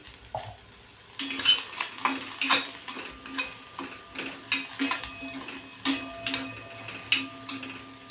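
Soybean vadi (soya chunks) being stirred in a pan, with a spatula scraping and clinking against the metal in a steady run of sharp taps over a faint low sizzle, starting after a brief quieter moment.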